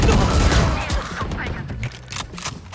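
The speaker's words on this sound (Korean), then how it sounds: "모든 미사일 발사" A missile barrage in the video game Valorant sets off a loud burst of rapid explosive blasts that fades into scattered thumps and crackles.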